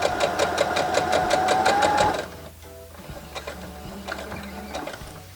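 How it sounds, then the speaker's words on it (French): A sewing machine stitches over fabric with a fast, steady mechanical whir for about two seconds, then stops, leaving quieter handling clicks and faint rustles. "je vais venir coudre par-dessus ça"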